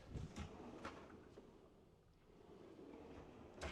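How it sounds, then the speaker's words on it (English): Kitchen cabinet drawers in a newly built house slide open, faint soft thuds and slides near the start and a louder knock at the end over quiet room tone. "let me make sure you see inside of these cabinets and drawers as well"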